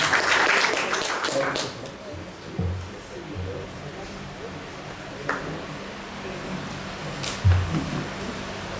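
Applause from an audience at a Lima anniversary talk: a burst of clapping, densest in the first couple of seconds, then thinning into scattered claps, murmurs and room noise.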